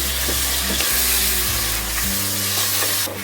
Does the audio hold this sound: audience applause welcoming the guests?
no